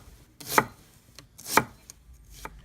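A knife slices a red onion into thin strips on a board, giving three crisp, close cuts spaced about a second apart, each a brief crunchy swish ending in a soft knock.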